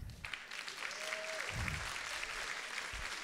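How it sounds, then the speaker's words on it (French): Applause from an audience at a regional assembly in Rennes, greeting a volunteer, steady and moderately loud throughout the short stretch with a faint tonal whistle partway through. "J'ai un premier volontaire, on va l'applaudir bien fort."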